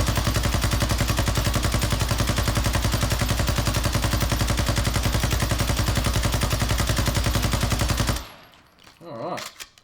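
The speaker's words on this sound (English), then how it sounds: "I'll just be aiming down sight and pressing the trigger." Sakin MG38 machine gun in Call of Duty Warzone 2.0 fires one long sustained burst of rapid, evenly spaced shots for about eight seconds, loud and close, then cuts off to quieter ambient game noise.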